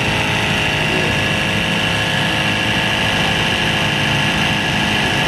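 A mini portable air pump for tyres runs nonstop with a loud, steady mechanical drone and buzz that holds the same pitch throughout.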